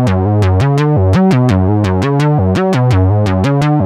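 Eurorack modular synth sequence from a Medic Modules EKG recorded as a direct DI signal, a loud, clean repeating run of pitched, plucky notes stepping between a few pitches in a steady rhythm, with no voices.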